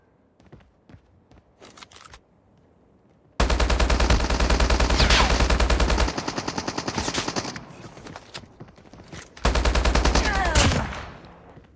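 Call of Duty gameplay gunfire: loud sustained bursts of automatic weapon fire in several long stretches, separated by quieter moments of scattered single shots and movement sounds, with no talk.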